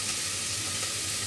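Onions sizzle steadily in a hot pan, a close, even crackling hiss with no talking over it.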